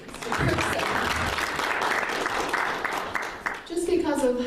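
Church audience clapping together in a sustained round of applause, fairly loud and dense throughout, with a voice rising over the tail end.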